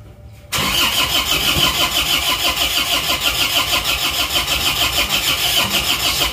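A 2.5 diesel engine in an Isuzu Panther cranks and catches almost immediately, then settles into a loud, close, rhythmic clattering idle that continues steadily without speech.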